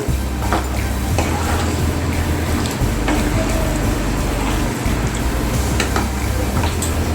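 Potatoes being stirred into a chicken masala curry frying in a pot, loud steady sizzle with scraping ladle strokes and occasional clinks against the pan, continuous and close.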